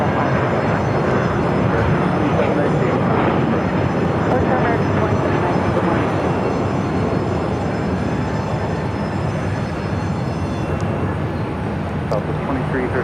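Airplanes take off and land on the runways at Phoenix airport, making a loud, continuous jet roar that holds steady and broad throughout, with no break.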